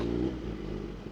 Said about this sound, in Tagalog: yung tambucho na lang yung naririnig ko